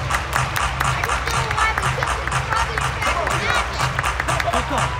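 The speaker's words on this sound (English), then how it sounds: "Everybody clap your hands." An arena crowd at an Orlando Magic vs LA Clippers basketball game claps in a steady rhythm, loud and close, with crowd noise and background chatter around it.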